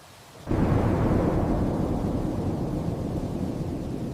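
A sudden deep rumble of thunder starts after a short quiet moment, then rolls on steadily and loud, slowly fading a little.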